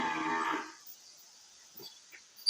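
A Murrah buffalo calf on a dairy farm gives one short, close moo at the start, followed by quiet farm background.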